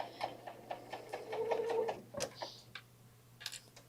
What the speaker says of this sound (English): I do have the speed turned down on the serger